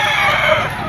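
A young gamecock stag crows loudly and close by, one strained, continuous call that fills the short moment.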